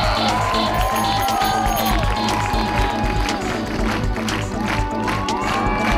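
A street theatre crowd in Ottawa cheers and shouts loudly and steadily, with scattered clapping and excited voices mixed through the dense, continuous noise.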